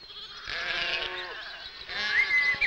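Sheep bleat during lambing season, up close and loud. Two drawn-out, wavering calls come in quick succession, with faint ambient noise between them.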